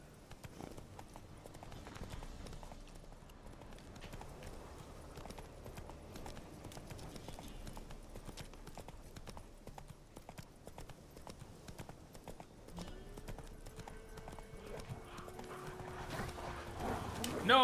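Roach the horse gallops in The Witcher 3, a steady run of clip-clop hoofbeats carrying through the whole stretch under game ambience and a talking voice, swelling louder near the end.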